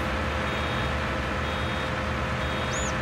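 Warning beeps from a full baler in the Farming Simulator 2019 video game sound over a steady, loud drone of tractor machinery, with a brief, high electronic tone near the end.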